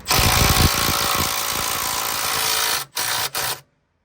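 A power tool spins a bolt on an aluminum belly pan under an E90 335d, a loud close whir that runs steadily, then breaks into two short bursts before it stops.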